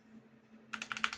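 Keys pressed on a SteelSeries Apex Pro Gen 3 keyboard with OmniPoint 3.0 HyperMagnetic switches: after a quiet moment, a quick close run of about six crisp clicks and clacks, with no voices.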